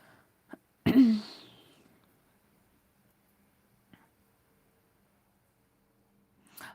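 A single sharp sneeze bursts out close by, loud and abrupt, followed by quiet with a few faint clicks.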